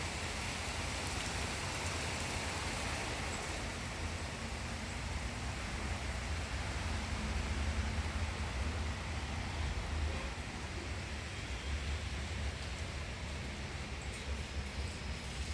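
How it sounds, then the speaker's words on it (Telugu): Rain falls steadily as a constant, even hiss with no clear breaks, moderately loud and diffuse throughout, with no voices. "వర్షం స్టార్ట్ పడుతుంది పడుతుంది"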